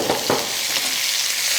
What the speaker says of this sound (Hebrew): אני מטגנת את הבצל על אש בינונית